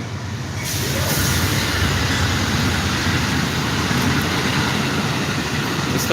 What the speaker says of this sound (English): It's the passenger train.